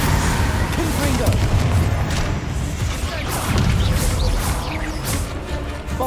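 In Hogwarts Legacy, Confringo fire-blast spells erupt amid chaotic combat, giving heavy, rumbling booms and crashing impacts that churn continuously, with voices shouting during the fight.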